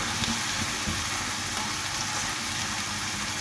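Pieces of liver frying in oil in a pan, giving a steady, dense sizzle close up that runs unbroken throughout, with no talking.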